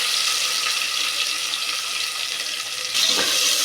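Chopped onions go into a hot pan with garlic while making Tamil paruppu sadam (dal rice), producing a steady, hissing sizzle up close that swells louder near the end, with no speech.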